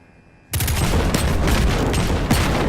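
Dense, continuous gunfire erupts in Destiny 2 after a quiet moment, a loud sustained fusillade of overlapping shots against enemies with booming impacts.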